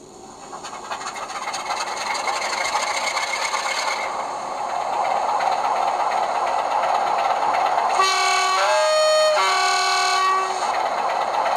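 Steady rumbling diesel engine sound from a model locomotive's sound decoder, rising in intensity, followed by two blasts of a multi-tone horn near the end.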